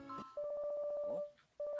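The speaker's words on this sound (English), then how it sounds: "Hey, Spam, your DDD's ringing." A phone rings in the Obey Me! video game with a steady electronic tone that repeats in short bursts. It starts after a brief sound at the beginning, pauses for a moment, then rings again, clear and up front.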